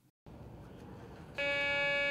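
A Garrett PD 6500i walk-through metal detector sounds its alarm: a loud, steady electronic buzzing tone that starts abruptly partway through and holds unbroken to the end, after a stretch of quiet room noise.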